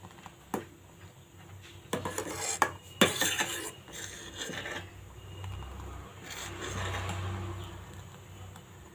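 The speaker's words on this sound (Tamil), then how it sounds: "நம்ம கொஞ்சம் கிண்டி விட்டுட்டே இருக்கணும் சேமியா வேகிற வரையும்" A spoon scrapes and clinks against a metal pot while vermicelli milk payasam is stirred, irregular close-up rubbing and knocks with a couple of sharper clatters, no voices.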